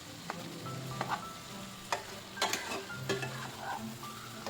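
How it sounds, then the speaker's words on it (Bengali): Elephant foot yam and potato pieces are stirred in a pan with a soft, steady sizzle. A spoon scrapes and clacks against the pan in short, irregular bursts, and no one talks. "আবারও নাড়াচাড়া করে সমস্ত সবজিটাকে একটু ভালো করে মিশিয়ে নিচ্ছি।"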